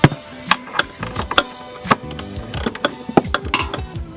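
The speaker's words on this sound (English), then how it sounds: "we have to screw the bolts back on" A ratchet tightens bolts during a Perrin shifter bushing install on a BRZ / FRS / 86, giving sharp irregular clicks and metallic knocks at close range.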